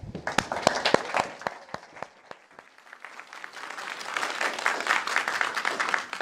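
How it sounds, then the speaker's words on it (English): Scattered individual claps open as a small concert audience welcomes a high school opera singer, thinning briefly before swelling into fuller, denser applause that holds steady. "Let's give a warm round of applause to Boston Hutchings"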